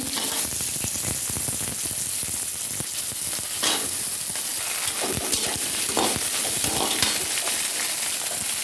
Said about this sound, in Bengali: আমি আগে আলুগুলো দিয়ে দিচ্ছি এখানে দুটো আলু আছে